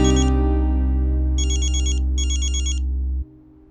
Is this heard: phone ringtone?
yes